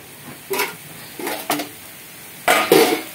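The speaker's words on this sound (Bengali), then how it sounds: "এবার শাকটাকে আমি একটু ঢাকা দিয়ে দেব।" Several separate metallic clanks of a lid being set on a cooking pot of greens, each short and close, spaced over a few seconds with two quick knocks near the end.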